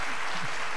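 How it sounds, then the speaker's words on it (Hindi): A short burst of dense crowd clapping from the audience at an Indo-Thai Hindi kavi sammelan poetry gathering. "एक बार तालियां वालियां बजा दीजिए"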